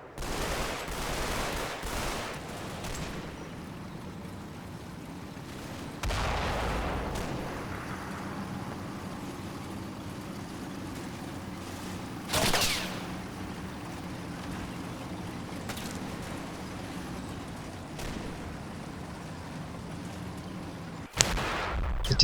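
Artillery fire in the Combat Mission war game during Operation Epsom: scattered booming blasts with long rumbling tails, some distant and some closer, spaced irregularly over a low steady battlefield background with no talking.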